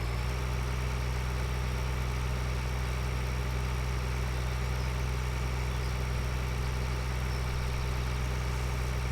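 A tractor engine idles in Farming Simulator 2013 with a constant, even low drone and a steady mechanical hum, unchanging throughout and without speech.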